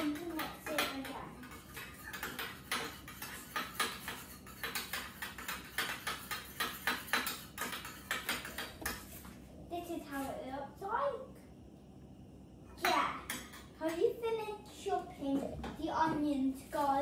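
Beetroot and bean burger mixture with lime juice mixed in a bowl, quick repeated utensil clinks and scrapes for about nine seconds, then sparser scraping with a voice and other voices speaking over it.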